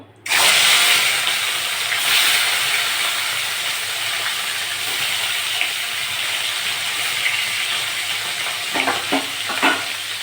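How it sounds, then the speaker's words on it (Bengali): Fish frying in hot mustard oil in a pan: a loud, steady sizzle and hiss that begins abruptly and holds throughout, with a few louder spattering bursts near the end. "তেলটা গরম হয়ে গেছে মাছগুলো ভেজে নেব"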